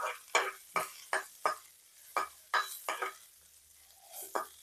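Onion, two pieces of green chilli and cumin frying gently over a low flame, with a soft sizzle under roughly ten sharp spoon scrapes and stirs against the pan, close and fairly quiet.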